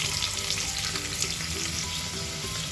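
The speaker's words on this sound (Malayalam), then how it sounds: "ഈ ചൂടായ കുക്കറിലേക്ക് നമുക്ക് 2 മീഡിയം സവാള ഇട്ട് കൊടുക്കാം" Loud, continuous sizzling and crackling as two medium onions fry in hot oil in a pressure cooker, close up and unbroken.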